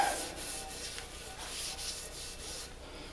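Oil being rubbed onto cast iron cookware around its seal and flange, a close soft rhythmic scrubbing with repeated back-and-forth strokes, fairly quiet and alone.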